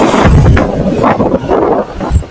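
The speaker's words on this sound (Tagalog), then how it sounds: "Ang lakas ng hangin!" Strong wind buffets a microphone outdoors while someone is on the move, making loud, irregular low rumbling gusts that rise and fall for a few seconds.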